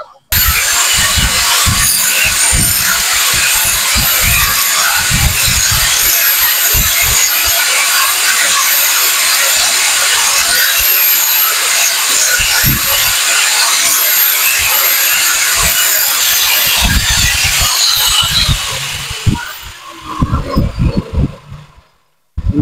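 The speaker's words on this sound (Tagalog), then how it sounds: "gagawin ko dito, gagrinderin ko muna yung mga part na yan" An angle grinder works on metal PCP airgun upper receiver parts, a steady loud high-pitched whine held for about eighteen seconds with rough chattering contact, then spinning down and fading near the end.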